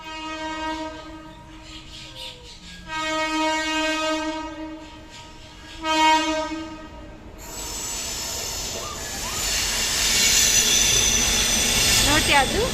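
A passing train sounds a long, steady horn in several loud blasts, followed by rising rumble and squealing wheels as the railroad cars roll by, with voices talking nearby.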